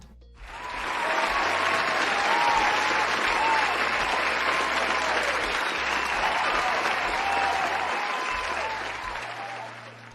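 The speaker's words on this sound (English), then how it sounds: "he deserves a round of applause" A studio audience on the talk show Prestige Happy Hour breaks into a full round of applause, a dense, loud wash of many hands that swells quickly, holds for several seconds, then gradually tapers off.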